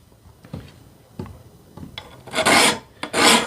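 A file rasping along the spine of a machete laid flat, a few soft scrapes followed by two loud, longer grinding strokes near the end, close and alone without speech.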